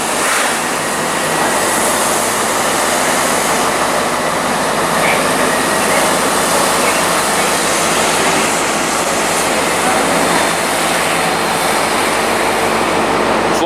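Class 165 diesel train passing through Reading station on the Great Western Main Line, a loud, sustained rumbling roar with rail noise holding steady throughout.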